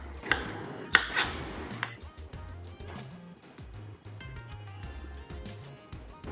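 Knife cutting tomatoes into even salad-sized pieces on a board, a few sharp close taps early on followed by quieter scattered cuts and handling noise.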